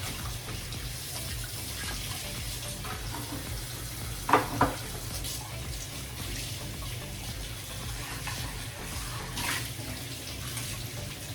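Hot water runs steadily from a kitchen tap into a sink, a continuous broadband splashing rush at moderate level with a couple of brief clunks partway through, and no talking.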